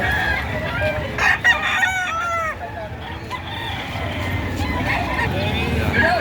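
Chickens and roosters at a livestock auction, several birds clucking and crowing close by over a steady crowd murmur, with people talking throughout.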